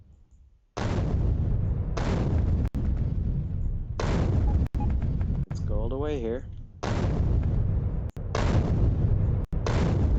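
Cliff explosives detonating in the Factorio video game, a series of loud booming blasts in quick succession, each followed by a short rumbling decay, with a brief spoken phrase between them.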